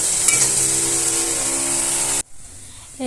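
Shrimp frying in a pan, a dense, steady sizzle that runs for about two seconds before cutting off abruptly, leaving quiet background.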